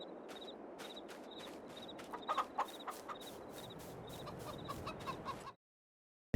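Chickens cluck in a coop in the Farming Simulator 22 video game, several soft clucks and short calls over a low ambient bed, then abrupt silence near the end.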